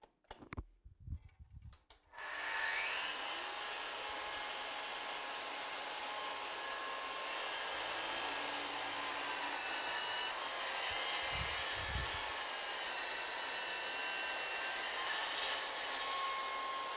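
After a few brief knocks, a Festool CS 50 circular saw spins up and cuts through wood in one long, loud, steady whining rip that holds nearly unchanged to the end.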